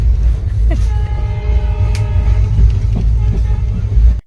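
A train at Dalkhola railway station produces a loud, close rumble of rolling wagons, with a sustained horn-like tone through the middle and a few brief station noises.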